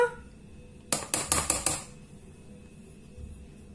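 A small sieve tapped while sifting flour and cornstarch for a cake gives a quick burst of five or six sharp, light metallic taps close by, then quiet.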